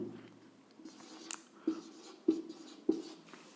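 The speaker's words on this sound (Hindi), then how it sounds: "कोई भी संख्या में लिख देता हूं" Pen or chalk scratching out a number during a maths lesson on divisibility, with a few distinct taps and short strokes spaced about half a second apart, fairly faint and close.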